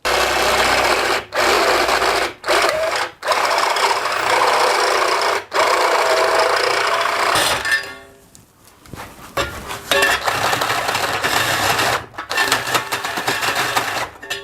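A drill bores a 25 mm hole through a metal baffle plate for a BGM Big Box Sport exhaust, a loud grinding whir broken by several short pauses, then quieter scraping and clanking toward the end.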